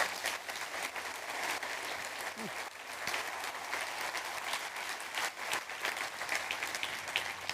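An audience claps steadily throughout, a dense sustained round of applause from a crowd, moderately loud and continuous.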